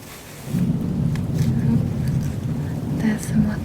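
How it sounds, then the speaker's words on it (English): Low rumbling thunder rolls through a steady rain storm, a continuous deep grumble with soft hiss of rain above it, fairly close and sustained throughout. "Oh, there's some more thunder."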